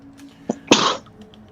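A single short sneeze, a soft intake followed by a sharp burst lasting about a quarter second, close and isolated in a quiet room.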